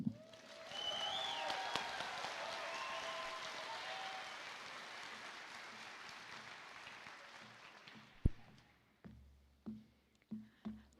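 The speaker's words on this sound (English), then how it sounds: "We give one more round of applause for our speakers, Representative Perucci and our valedictoria" A crowd at a graduation ceremony applauds, with dense clapping that swells early and slowly fades over several seconds, followed by a few scattered thumps and knocks as the room settles.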